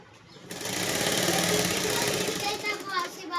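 Sewing machine stitching the back part of a suit, starting up after a brief pause and running steadily at close range, with faint voices in the background.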